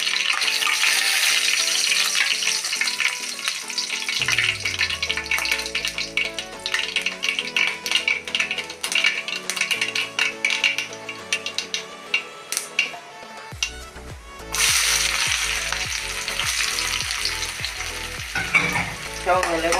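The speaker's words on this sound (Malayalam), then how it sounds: "കടുക് പൊട്ടി കഴിഞ്ഞിട്ട് ചുവന്നുള്ളി ഇടണം." Sliced shallots sizzle loudly in hot oil right after mustard seeds have popped, a continuous close frying hiss broken by stirring scrapes while a spicy red chilli chutney is prepared.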